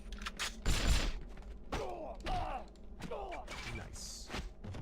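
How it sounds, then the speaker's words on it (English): Enemy rockets launch in quick succession in 007 From Russia With Love, several sharp whooshing bursts and thuds over mechanical creaks, fairly close and loud. "He just launched 3 rockets at once?"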